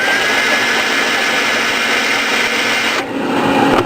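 A powered case trimmer with a deburring tool runs on .223 brass cases, giving a steady, loud motor whine and grind that holds throughout, with a brief dip and shift in tone near the end.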